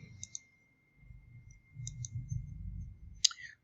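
A computer mouse clicks a few times in a quiet room: two quick pairs of crisp clicks, then a single sharper click near the end, over a low background hum.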